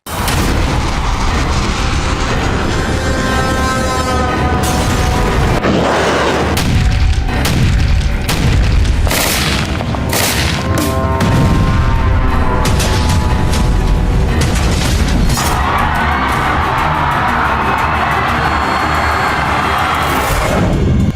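Ballistic missiles and drones are launched at Israeli targets in a run of loud booming blasts and roaring bursts, repeated over about twenty seconds with a sustained rushing roar near the end.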